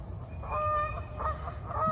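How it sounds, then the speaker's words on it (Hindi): Geese at a park lake give three nasal honks over a low outdoor rumble, moderately close, with no talking. "इसमें जो है वो गूस भी हैं, डक्स भी हैं।"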